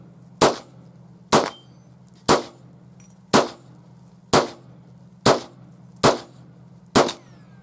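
A 350 Legend rifle fires eight sharp, evenly spaced shots, each one loud and close with a short decaying tail, over a steady low hum and no talking.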